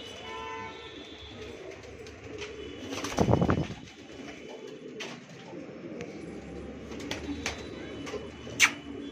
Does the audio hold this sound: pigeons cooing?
yes